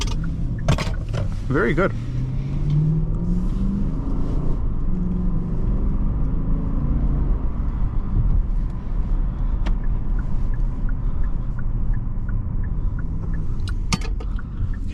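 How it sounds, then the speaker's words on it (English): A 2018 Genesis G80 5.0 Ultimate makes a U-turn, with a low steady engine rumble and road noise heard from inside the cabin, a few clicks and light jingles, and a brief spoken remark near the start. "Let's try the U-turn radius."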